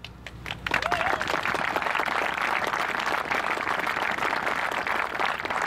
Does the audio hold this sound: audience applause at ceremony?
yes